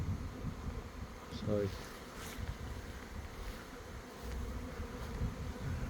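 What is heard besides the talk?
swarm of honeybees buzzing around a tree at an apiary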